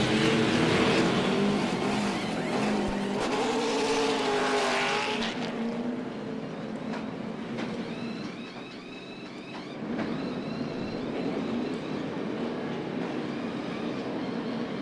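NASCAR Cup Series race cars at Martinsville Speedway rumble in a loud, continuous engine roar during a caution, with a dense pack of cars circulating and swelling and fading as they pass.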